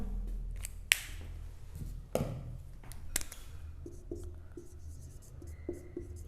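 A lecturer writing on a board, with several sharp taps and a run of light, scratchy strokes, fairly close and otherwise quiet.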